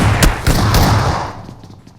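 Gunfire in a shooting video game: a quick burst of three or four sharp, loud shots close together, followed by a trailing rumble that fades out.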